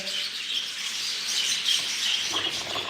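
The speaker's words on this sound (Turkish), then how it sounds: "Ben kuşları şöyle sizlere göstereyim şimdiden" Pet birds chirp and tweet continuously at fairly close range, a busy overlapping twittering with no talking heard.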